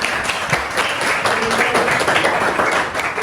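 Children in a classroom clap together, a brisk, fairly loud patter of many small hands continuing steadily with faint background voices.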